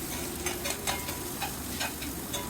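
Cleaned pirandai (adamant creeper) sautéing with chillies in a pan for chutney, a steady sizzle broken by soft stirring taps and scrapes at irregular intervals, close and without voices.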